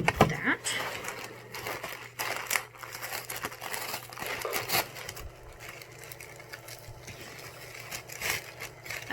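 Tissue paper crinkles and rustles close by while a Bijou Box subscription package is unboxed, with irregular crumpling bursts and brief louder crunches over a steady low hum.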